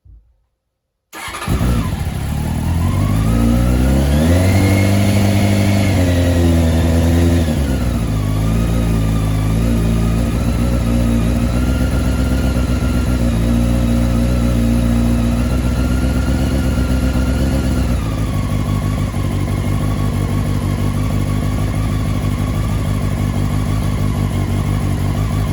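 A 1997 Honda CBR600 F3 motorcycle engine, cold and on choke, cranks and catches, then idles loudly and close with several rises and falls in revs before settling into a steady high idle.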